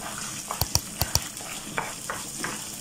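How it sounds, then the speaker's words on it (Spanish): Rice frying in oil is stirred with a utensil, giving a run of sharp scraping clacks against the pot over a low steady sizzle, close and clear. "Vamos a comenzar a revolverlo"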